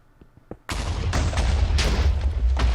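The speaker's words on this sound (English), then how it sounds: "Yeah, there's a lot of explosions." Explosions in the Minecraft modpack Project Ozone 2 erupt after a quiet start, a dense, loud rolling barrage of overlapping booms and crackling blasts that keeps going without a break.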